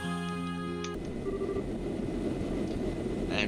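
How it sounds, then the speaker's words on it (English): A low, droning airship engine hum from the video game Trails in the Sky SC fades in after a short musical tone, steady and fairly quiet, with faint mechanical whirring over it. "That's the sound of an airship engine."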